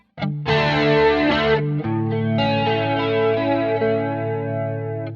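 Electric guitar through a Quad Cortex flanger with drive added, giving a gritty, sweeping modulated tone; sustained strummed chords ring out loud and alone, with a brief change of chord partway through.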